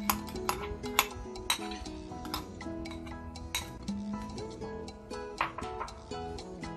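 Mutton keema being mixed with chillies and spices in a bowl, light clinks and taps of a utensil against the bowl at an irregular pace, fairly quiet and close, without speech.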